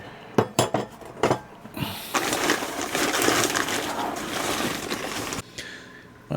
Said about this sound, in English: So we are going to start adding our salt